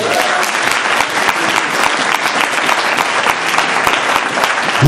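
A church congregation bursts into loud, sustained applause for the Lord, dense rapid clapping filling the room steadily from start to finish.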